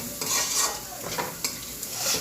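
Fried egg stirred into a sizzling spicy masala in a pan: a spoon scrapes and clinks against the pan several times over a continuous close hiss of frying, with no talking.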